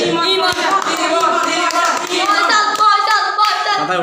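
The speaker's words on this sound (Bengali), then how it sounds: "দে দে সবার হাততালি দাও" Students clapping at an arm wrestling match, a dense burst of applause running throughout, mixed with excited children's voices and shouts close by.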